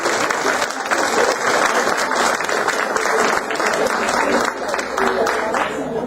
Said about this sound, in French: applaudissez-les parce qu'ils le méritent.